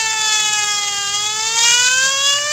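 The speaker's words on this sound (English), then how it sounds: "oh shoot, the sirens" Sirens wail continuously, a loud rising and falling tone with rich harmonics sweeping slowly throughout, with no voices.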